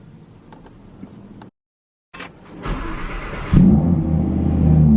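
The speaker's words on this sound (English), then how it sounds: "Love a cold start as well." An Audi R8 cold-starts: a few faint ticks, then a brief silence, then the engine cranks and catches. It settles into a loud, steady, close idle.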